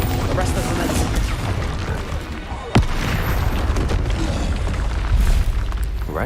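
Bombarda spell blast in Hogwarts Legacy, one sharp loud explosion midway through busy game noise, with a voice speaking before it.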